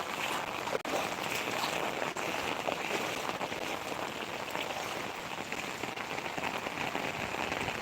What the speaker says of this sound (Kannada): ನೋಡಿ ಎಲ್ಲ ಮಳೆ ಬಂದು ಕುತ್ಕೊಂಡ್ಬಿಟ್ಟಿದೆ